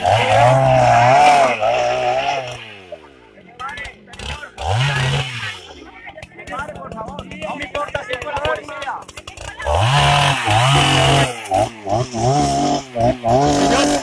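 Chainsaw felling trees near a wetland, its engine loud and close and revving in surges and dips, with people talking over it.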